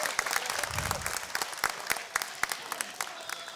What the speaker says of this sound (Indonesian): para hadirin boleh berikan tepuk tangan